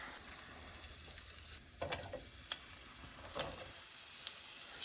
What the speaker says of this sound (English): Needs to be sizzling.